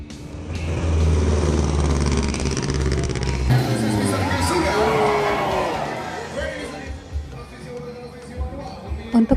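A classic Mustang roars and revs loudly during a drift show at a car museum, engine droning before the crowd breaks into cheers and whoops as the noise fades to scattered shouts and bangs.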